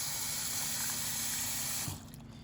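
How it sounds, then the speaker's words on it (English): Tap water running into a rock tumbler barrel, a loud steady close gush that stops abruptly near the end, leaving quiet room noise. "We need to add some water."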